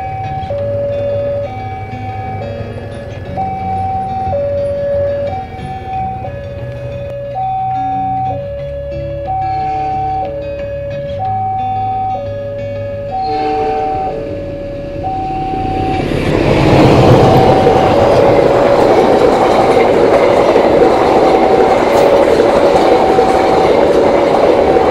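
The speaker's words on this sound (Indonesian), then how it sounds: "ini juga ada kereta yang melintas teman-teman" A train rumbles past close by at a level crossing in Sidoarjo, Indonesia, its roar swelling in the second half, while a repeating two-tone electronic chime sounds steadily throughout.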